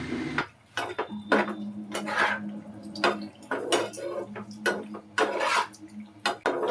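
Boiled pasta being mixed into paneer masala in a pan, with loud, close, irregular clanks and scrapes of a spoon against metal and short pauses between strokes, with no talking.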